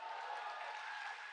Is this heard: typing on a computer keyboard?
no